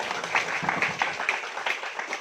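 An audience at a high school ceremony gives a short round of moderately loud applause, with individual claps standing out through the sound of the room.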